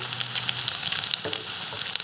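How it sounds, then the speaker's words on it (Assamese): Cumin and meat masala sizzle and crackle steadily in hot oil, with a faint stirring scrape partway through. "এই মছলাখিনি তেলতে দি দিয়া হৈছে"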